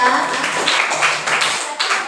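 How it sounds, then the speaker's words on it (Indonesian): A classroom of students breaks into dense, continuous applause for classmates, the clapping steady and fairly loud with voices mixed in. "Tepuk tangan dong buat mereka"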